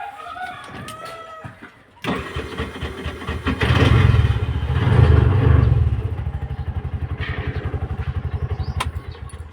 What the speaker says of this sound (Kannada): ಈಗ ನೋಡಿ ಗಾಡಿ ಹಿಂಗೆ ಸ್ಟಾರ್ಟ್ ಆಗುತ್ತೆ ಅಂತ